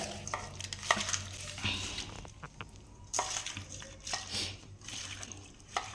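Tomato, onion, garlic and green chili cooking for gojju in a pan, with steady sizzling and frying broken by repeated scrapes and stirring clatter of a utensil against the pan, close by.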